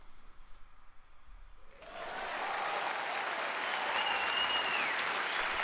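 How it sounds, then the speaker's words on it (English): Quiet room tone gives way to a swelling wave of applause from a large crowd in the visual novel Steins;Gate 0, loud and sustained until the end. "There's a huge, huge wave of applause."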